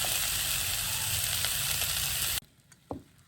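Onions sizzle steadily in a hot pan for a few seconds, a dense bright frying hiss close up, then the sound cuts off abruptly, leaving only a faint clink.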